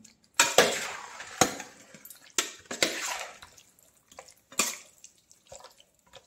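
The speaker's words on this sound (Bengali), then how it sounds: "দইটা মাখিয়ে রাখছি" Chicken is mixed with yogurt in a bowl, giving a series of wet squelches, slaps and clinks of a utensil against the dish, irregular and close, with quiet gaps between.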